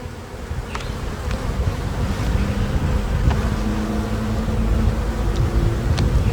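Honeybees hum in a dense, continuous buzz around an open hive being worked, with a few individual bees zipping close past now and then over the steady drone.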